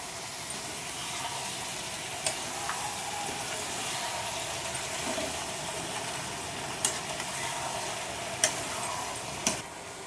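Broad beans with turmeric sizzle steadily in a hot pan without water, a loud, even frying hiss broken by a few sharp scrapes and clinks of stirring, with no voices.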